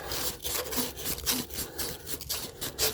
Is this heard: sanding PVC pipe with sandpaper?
yes